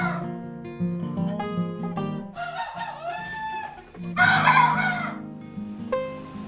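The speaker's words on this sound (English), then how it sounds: "our 3 cockerels, which will soon be roosters, have started to crow and practice with their voices" Three young cockerels on a farm practise crowing, producing rough, breaking crows mixed with clucking from other chickens nearby, fairly close and continuous, no talking.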